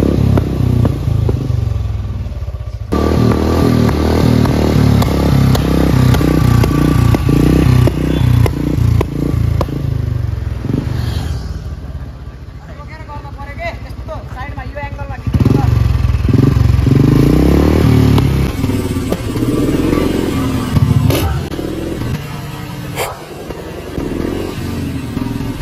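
A Royal Enfield Bullet motorcycle engine runs loud and close while misfiring, with rough, uneven chugging, clattering pops and bursts of revving. Voices talk intermittently over it.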